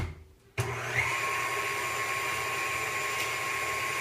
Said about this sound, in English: we're just going to mix that together for about 2 minutes until the egg yolks get kind of creamy and like a light yellow color